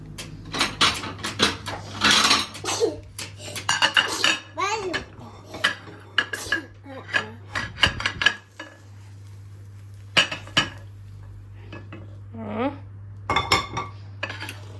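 Metal utensils clink and scrape against a plate and pan as cooked egg is dished out, sharp repeated clatters spread through the clip, with someone speaking at times between them.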